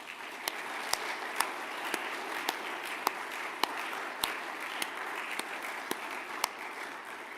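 An indoor audience at a secondary school awards ceremony applauds the award recipients with steady, sustained clapping, a few sharper claps popping out at regular intervals.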